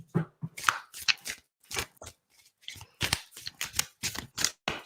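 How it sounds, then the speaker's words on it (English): Cards riffle and snap in quick, irregular bursts, close by, with brief pauses between shuffles. "just doing some light shuffling there"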